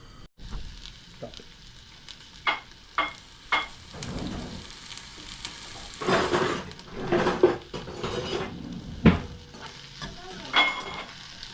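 Onions and tomatoes sauté in a hot pan while preparing masala for a traditional fish curry, with a steady sizzle and repeated spatula scrapes and clinks against the metal, close up and with no talking.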